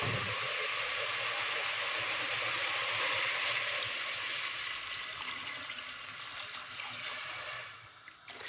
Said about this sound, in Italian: adesso copro d'acqua